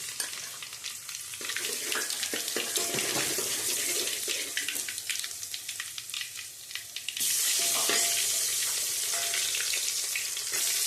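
Ginger-garlic paste and asafoetida spit and crackle in hot tempering oil for a Gujarati mixed stuffed vegetable dish, a steady close sizzle with scattered pops that swells into a louder, brighter hiss partway through.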